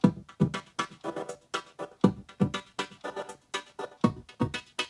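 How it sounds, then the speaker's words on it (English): A rhythmic electronic arpeggiated synth chord from Logic Pro's glitching beat machine, choppy stuttering notes pulsing in a steady repeating loop, each bar opening with a punchy low hit. "I added an arpeggiated chord, which Logic calls it the glitching beat machine"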